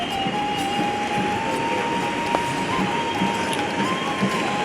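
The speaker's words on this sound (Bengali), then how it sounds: "তো ট্রেন এসে গিয়েছে" A train pulls into a station in steady rain, a constant hiss and rumble of wheels and carriages with a thin, drawn-out squeal running through it, close and unbroken throughout.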